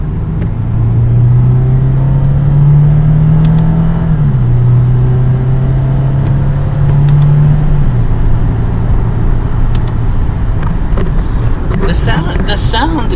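A 2009 Lexus IS250 accelerates hard, a loud steady engine drone rising and dipping in pitch as it pulls through the revs, with clicks and rattles near the end.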